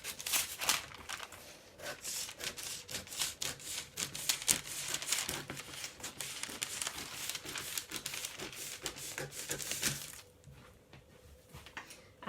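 Rough rustling and crisp snipping of paper scissors cutting a paper sewing pattern piece, a dense run of close cuts that stops near the end.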